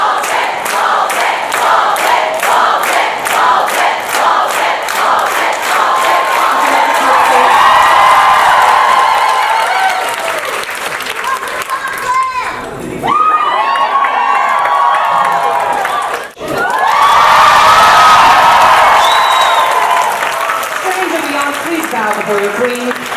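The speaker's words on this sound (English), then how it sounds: "The crowd started chanting ball pit when our ball pit queen made her grand entrance" A convention crowd cheers and chants "ball pit" in a loud, rhythmic, sustained roar as a costumed host enters, the noise briefly dipping twice before swelling again.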